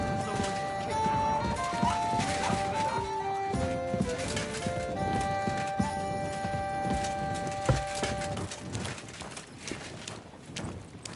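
Horses clip-clop along in the video game Kingdom Come: Deliverance II, their hooves a steady rhythm of muffled knocks beneath layered game music, with an occasional whinny.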